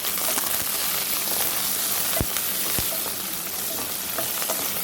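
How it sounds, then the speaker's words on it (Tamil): Coriander sautéed in hot oil with onions and spice powder for a Tamil chicken curry, a constant close sizzle with a couple of sharp stirring scrapes of the spoon against the pan. "மீதி கொத்தமல்லி இதில் போட்டுட்டு நல்லா வதக்கி விட்டுறணும்."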